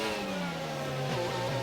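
A race car engine drones and revs steadily in a racing video game on a Spanish circuit, its pitch sliding down and then shifting upward near the end, with no talk.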